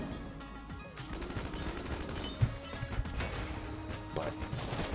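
Rapid gunfire crackles in the Enter the Gungeon video game, a busy stream of quick, mid-level shots and impacts with a few sharper cracks over a steady game music bed.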